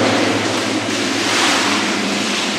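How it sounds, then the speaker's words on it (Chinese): Water is poured over a person lying on a slab in a Turkish bath, making a loud, steady, close rushing splash for the whole stretch with no talk. "这边开始给我冲水"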